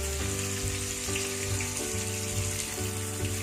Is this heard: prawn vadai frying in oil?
yes